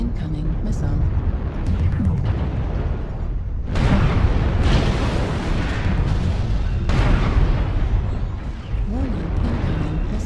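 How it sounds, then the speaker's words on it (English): Explosions from incoming missiles in MechWarrior Online, heavy booming bursts that surge at several points across a dense, noisy battle mix, with voices talking over it. "Warning, incoming missile."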